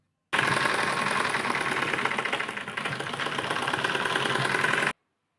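Sewing machine stitching sleeve pieces together for a ladies' garment: a continuous fast mechanical whirring chatter, close and steady, dipping slightly midway before running on and stopping abruptly.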